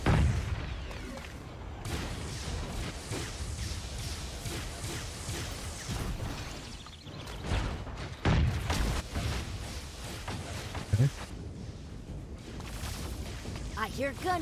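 Gunfire and explosive booms from the mech video game Super Mecha Champions, rapid bursts and heavy impacts running continuously with a few louder hits, under game voices.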